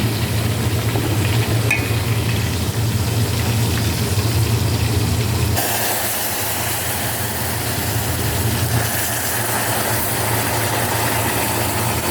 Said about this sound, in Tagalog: Yan, nagpiprito tayo ng isda